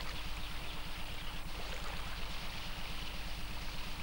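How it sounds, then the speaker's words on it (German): A stream pushes through a narrow gorge, giving a steady, dense rush of flowing water at moderate level throughout, with no voices. "Da, wo der Bach sich durch eine Schlucht drängt"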